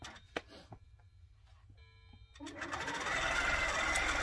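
A Qnique long arm quilting machine from the Grace Company sewing a quilt under automation: after a few quiet electronic beeps and clicks, the motor starts up and settles into a steady, close, rapid stitching whir.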